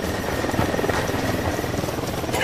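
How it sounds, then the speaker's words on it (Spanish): Helicopter in the video game Ghost Recon Wildlands, a steady, loud rotor thrum and engine buzz held without a break. "Un helicóptero, que no los vea."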